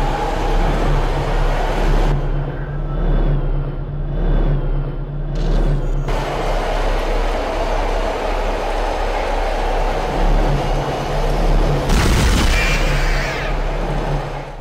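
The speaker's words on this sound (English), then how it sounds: "That's a pretty sweet tram." A tram in the sci-fi horror game Dead Space rolls along with a loud, steady rumble and low hum, brief whooshing shifts and a heavy clunk near the end, with no talk.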